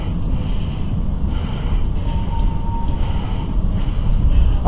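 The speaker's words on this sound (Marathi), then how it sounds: "आपण चाललो आहे 5 नंबरच्या वेस्ली ट्रेनमधनं" An Oslo line 5 metro train toward Vestli runs through heavy snow, heard from inside as a loud, continuous rumble with a faint tonal whine and some heavy breathing close by.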